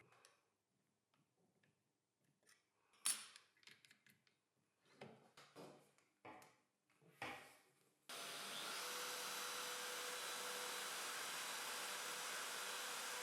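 A wood router cuts a circle on a circle-cutting jig, its steady broadband whine with vacuum extraction running continuously and loud after a stretch of light ticking and handling noises.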